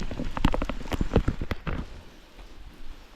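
A sudden heavy tropical downpour at a riverside bottom-fishing spot in Malaysia, with a dense steady hiss of rain and sharp nearby drops pattering on a surface, strongest at first and then settling to a softer wash.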